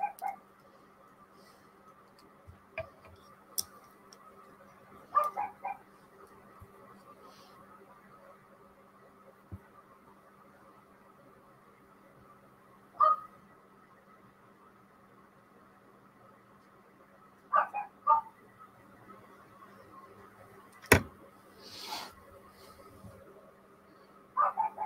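A dog barks indoors in an artist's studio, short isolated barks spaced irregularly, some in quick pairs, moderately near against a quiet background hum.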